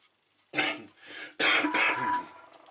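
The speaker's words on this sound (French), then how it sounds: "désolé, je tousse encore" Two harsh, close coughs in quick succession, with a short pause between them and quiet around.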